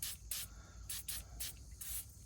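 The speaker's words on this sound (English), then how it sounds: "Let's give them a little bit of a spray." Short bursts of hissing spray repeat in a quick uneven rhythm, close and crisp, separated by brief pauses.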